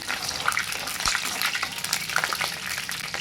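Curry leaves crackle and spit in hot oil for tempering, a bright continuous sizzle with small pops, close by and fairly loud.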